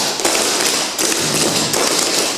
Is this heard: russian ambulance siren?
no